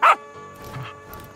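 A dog in the video game Last Day of June gives one short, loud bark at the start, and quieter game ambience follows.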